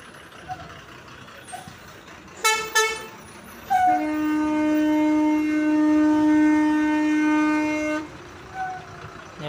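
A bus sounds its horn at the Gandhipuram bus stand in Coimbatore, two quick toots followed by one long sustained blast lasting several seconds, loud and close over faint station ambience.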